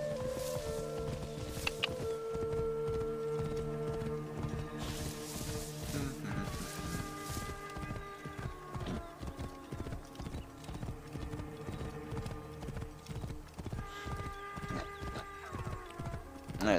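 Hooves of a horse in Assassin's Creed Origins, a steady clip-clop rhythm close by with an occasional whinny, running the whole time over a soft game background with no talking.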